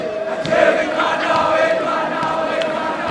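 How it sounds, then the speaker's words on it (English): Selborne schoolboys sing and cheer together from the stands at a school rugby match against Hudson Park, a steady crowd chant with a sustained tonal line, carried at moderate distance across the full stretch. "some of the Selborne boys singing away, proud of their school, cheering their players on"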